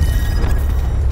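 A grenade blast in the shooter Blackout hits as a loud, close, low-heavy boom that rumbles through the whole brief moment.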